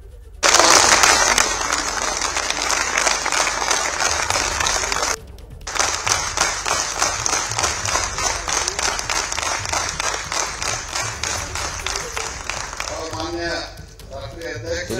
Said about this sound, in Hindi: प्रधानमंत्री का ताली बजाकर स्वागत किया गया।